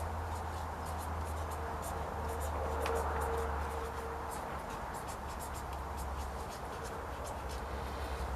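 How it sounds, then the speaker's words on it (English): A pen scratches out a plant label for Bunyards Exhibition broad beans, producing a steady stream of small ticking strokes over constant outdoor background noise, close and moderately quiet. "we're going to write Bunyards Exhibition"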